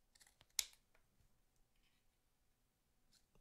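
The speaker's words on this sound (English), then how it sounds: "I'm actually going to just snip these wires off now" Scissors make one sharp, close snip through thin wires on a handmade bow, followed by a few faint, scattered clicks in an otherwise quiet room.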